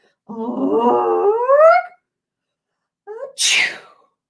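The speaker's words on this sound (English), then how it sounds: "Achoo." A single vocal sneeze lands near the end, a short loud burst after a drawn-out rising voiced wind-up, with a brief gasp just before it; the whole thing is a human voice performing a sneeze in a quiet room.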